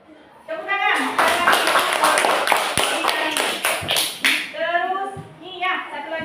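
A classroom of children claps together in a burst of rapid, uneven clapping lasting a few seconds, close and loud, while a teacher's voice talks before and after.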